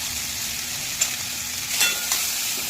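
Tomato, green chilli, ginger and peanuts frying in leftover oil in a pan, giving a steady close sizzle throughout, with a few brief clicks and scrapes as the mixture is stirred.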